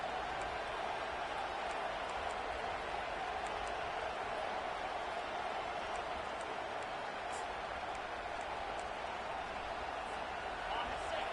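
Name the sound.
home crowd noise in a college football video game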